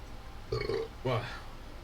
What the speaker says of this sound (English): I've got the burps right now.